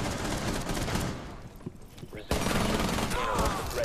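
Rapid gunfire in the video game Rainbow Six Siege, dense bursts of close shots that briefly drop away and then resume louder.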